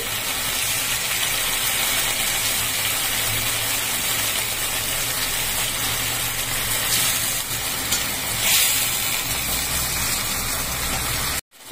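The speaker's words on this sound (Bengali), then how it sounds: "এবার মাছগুলো আমি এক এক করে ছেড়ে দিচ্ছি।" Pieces of katla fish, for a kaju katla curry, slide one by one into a hot pan of oil. A loud, steady frying sizzle runs throughout with no voices, then cuts off abruptly at the end.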